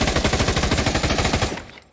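An AUG rifle in the VR game Pavlov fires one sustained full-auto burst of evenly spaced, fairly slow shots, close and loud, ending abruptly with a short fading tail.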